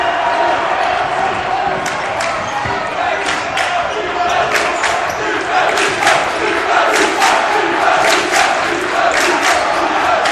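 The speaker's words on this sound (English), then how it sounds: "that Trinity crowd trying to give the home team a boost, chanting defense" Home crowd at a high school basketball game at Trinity chanting defense, a rhythmic roar of voices in a gym with sneaker squeaks and ball bounces, under a commentator's talk.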